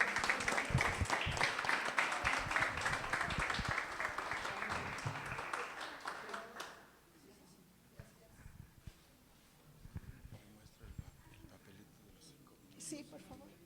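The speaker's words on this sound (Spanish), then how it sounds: "Démosle la oportunidad y el aplauso a Guadalupe Campos Granados" An audience applauds a local speaker at a community history talk in Santa María Aztahuacán, a dense burst of clapping lasting several seconds before dying away into quiet room murmurs and scattered small sounds.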